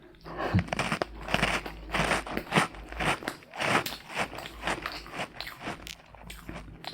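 Close, crisp crunching of dry graham crackers being bitten and chewed, repeated bites with crackly texture continuing steadily throughout, no talking.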